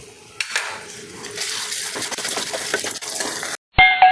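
Curry leaves and rock salt stir-fried in a kadai for a spice powder, a close gritty scraping and sizzling that runs steadily, then breaks off into near silence with a short clink at the end.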